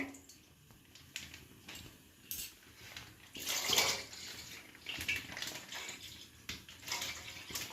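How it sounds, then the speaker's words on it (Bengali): Two litres of milk poured into a cooking pot for payesh make a gurgling, splashing stream that swells and fades in uneven surges, close by, with a few faint clinks of the pot. "এবার আমি দুধ দিয়ে দেবো, দুধটা গরম হতে থাক"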